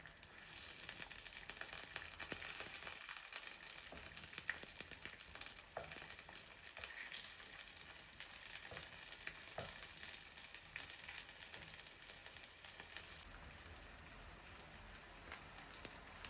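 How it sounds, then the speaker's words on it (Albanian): Sujuk sausage frying in a pan gives a soft, steady sizzle and crackle, faint and continuous with a few small pops and no voices. "Suxhuku është skuqur mirë nga të dy anët."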